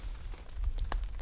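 Rain patters steadily on a dark, foggy mountaintop camp with a hammock, a soft continuous hiss broken by a few sharper drops striking nearby surfaces.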